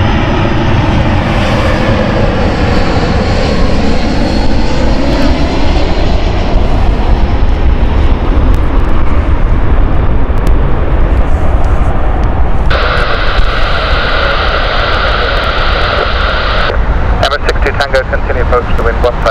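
A Kuwait Airways airliner passes at Heathrow with a loud, sustained jet-engine roar and a sweeping, shifting tone, while someone talks over it. A steady radio-like hum cuts in partway through.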